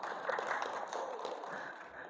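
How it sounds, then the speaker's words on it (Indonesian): Steady applause from an audience at an installation ceremony, a continuous dense patter of clapping lasting a couple of seconds at moderate volume. "Tepuk tangan dulu."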